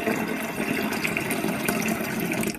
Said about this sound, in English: fill a single pot with cold water